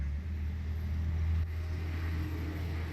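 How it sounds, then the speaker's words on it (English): A fire truck engine rumbles nearby as a deep, steady drone that stays fairly loud throughout, with no siren. "they always got to have a fire truck"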